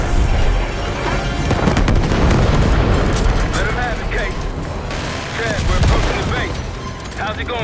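A grenade explodes in the video game Call of Duty Black Ops 6 with loud, sustained booming and rumbling, crackling debris and gunfire, while voices talk over the chaos.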